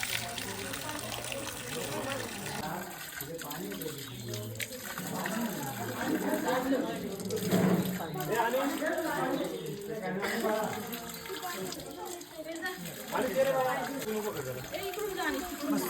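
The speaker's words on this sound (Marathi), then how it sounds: "हेच पाणी खाली या गोमुखातनं बाहेर येतं बाराही महिने" Spring water trickling and splashing steadily from a stone cow-mouth spout at a temple in Dapoli, a soft continuous flow heard close by under ongoing talk.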